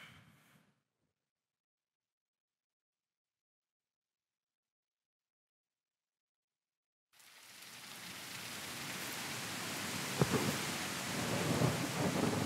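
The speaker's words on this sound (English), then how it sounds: "We can even change this sunny day into a thunderstorm." Thunderstorm effect in a game engine demo: a brief faint rumble, then silence, then rain and thunder swell in steadily, with a sharp thunder crack near the end over continuous heavy rain.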